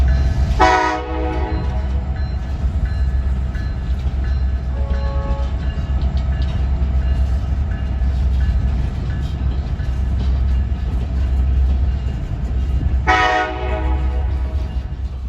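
A freight train backing up sounds its horn in two clear blasts, one at the start and one near the end, with a shorter faint toot between, over a constant low engine rumble heard at a distance.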